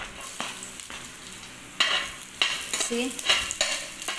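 Garlic frying in a pan for adobong tilapia, a close sizzle broken by scraping stirs and clacks, with one brief spoken word.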